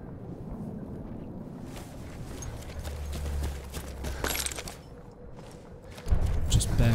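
Horse hooves clip-clop in the Battlefield 1 video game, a steady patter of steps under low wind and ambient rumble, with a louder burst of noise near the end.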